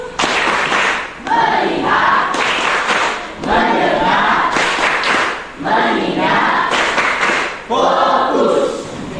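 A group of students plays the tepuk fokus rhythmic clapping game in a school class, sharp bursts of clapping and shouted group chants alternating in steady repeated phrases, loud and close.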